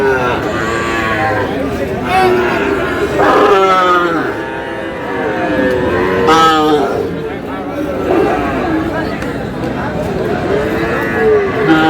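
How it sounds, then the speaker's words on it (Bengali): Sahiwal bulls at a cattle market in Dinajpur give repeated loud, drawn-out moos, one after another, over a busy crowd chattering nearby. "শাহিওয়ালের ষাঁড়"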